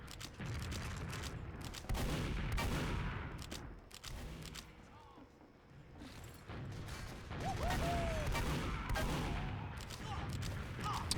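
Rocket explosions in Team Fortress 2 burst repeatedly over dense, loud game noise in a casual match, with several blasts clustered near the middle and end.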